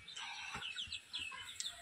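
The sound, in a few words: broiler chickens clucking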